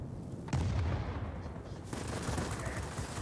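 Aircraft guns on an Avia S-199 fighter firing at a bomber in World of Warplanes, rapid bursts of gunfire with hard onsets over a steady roaring engine drone, loud and close.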